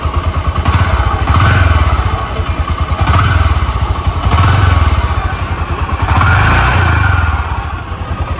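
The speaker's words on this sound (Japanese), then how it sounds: "ちょっとエンジンかけてもらっていいですか" A Honda GB400TT motorcycle engine, electric-started, runs close by with a steady, throbbing idle, its chugging pulse rising and falling in slow waves.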